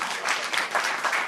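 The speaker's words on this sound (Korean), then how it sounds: "박수로 환영하겠습니다." A short burst of steady applause from a crowd, moderately loud and even throughout.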